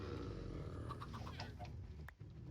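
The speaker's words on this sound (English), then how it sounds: "there's a baby chicken right there" A chicken in a Minecraft-style multiplayer video game gives a few quick, soft clucks over continuous background game sound.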